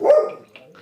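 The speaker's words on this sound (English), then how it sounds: "That's my dog." A single short, close dog bark rings out, followed by a fainter, softer yip.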